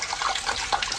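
A water tap gushes strongly into a filling tub in a German radio play, a close, continuous rushing splash with no voices over it.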